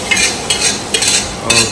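Prawns sizzling in a hot pan with masala, stirred in several scraping strokes that come roughly every half second over a constant fry hiss, close and loud.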